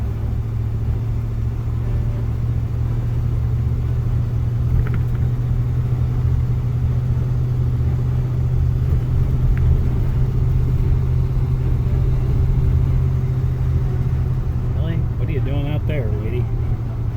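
An RV taking a corner slowly after a rear brake adjustment, its low engine rumble droning steadily and loudly from inside the cab.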